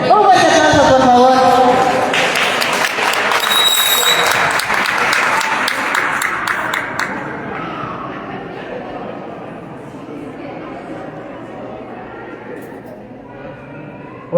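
An audience at a family history contest in Mezcala applauds a presenter with a loud burst of clapping that slowly tapers and thins over about fourteen seconds, with some chatter and a voice near the start.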